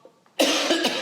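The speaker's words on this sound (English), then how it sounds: "I'm going to cough" A single sharp, close cough bursts out after a brief quiet moment, harsh and breathy.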